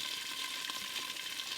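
Taro pieces frying in hilsa fish oil under a lid, a soft, steady, faint sizzle that continues without a break.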